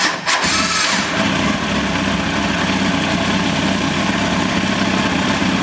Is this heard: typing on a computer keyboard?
no